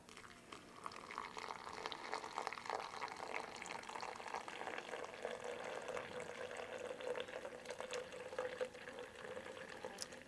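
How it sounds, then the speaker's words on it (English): Hot water just off the boil is poured over ground coffee in a Bodum French press. It makes a steady, close gurgling stream that runs unbroken for about ten seconds. "we're gonna add some hot water"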